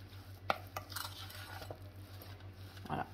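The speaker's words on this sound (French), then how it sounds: "On écrase avec la cuillère tout en mélangeant de manière impeccable à ce que la farine soit bien imprégnée" A spoon scrapes and clinks against a bowl while mashing and mixing canistrelli biscuit dough with flour, soft irregular taps and scrapes, faint and close, over a low steady hum.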